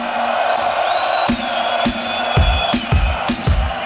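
A festival crowd at a live concert roars and cheers loudly, with rhythmic low thumps underneath, a dense wall of voices close and full.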